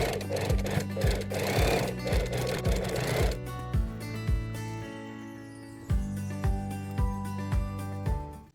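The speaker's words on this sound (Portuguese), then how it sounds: "agora tenho de ir para a máquina e passar esta área toda na máquina para fazer a bainha" Sewing machine stitching the hem of a pair of shorts, a loud rapid mechanical whirring in steady bursts with brief pauses between runs.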